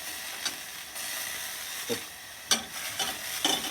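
Water drops hiss and sizzle on a hot refurbished old frying pan, skittering without sticking, with several sharp bursts of crackling over a steady soft frying hiss.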